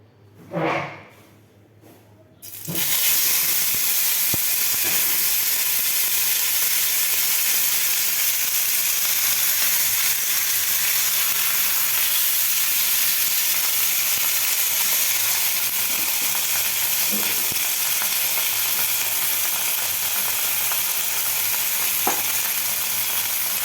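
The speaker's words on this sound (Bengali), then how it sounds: "কড়াতে একটু তেল গরম করে নিলাম, এরপরে এই পাতুরিগুলো একটু ছেড়ে দেব" Koi fish paturi frying in hot oil in a pan: after a quiet start with a few soft bumps, a loud sustained sizzle erupts and holds steady to the end, with occasional faint clicks and no talking.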